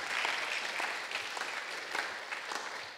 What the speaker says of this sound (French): Oui, vous pouvez les applaudir, c'est bien.